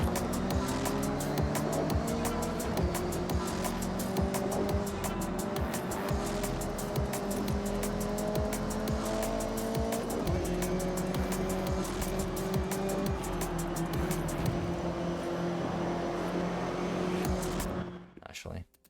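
A Forza V10 cross-country car on its original engine in the Forza racing game, a continuous engine drone with shifting pitch and repeated short tire squeals, running steadily before cutting off abruptly near the end.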